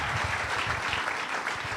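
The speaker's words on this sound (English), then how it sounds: "A huge round of applause for Aditya Thackeray, please." Applause from an audience at a live event featuring Shiv Sena minister Aditya Thackeray, a steady dense wash of clapping that fills the short moment without any talk over it.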